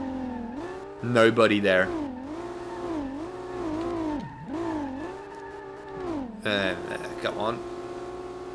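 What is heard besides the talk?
2JZ-engined 240SX car engine revving, SLRR video game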